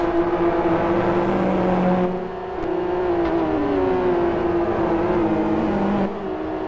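SuperGT race cars at full speed on the South City circuit, engines droning with steady high-pitched whine and shifting pitch as they battle closely, loud and continuous throughout.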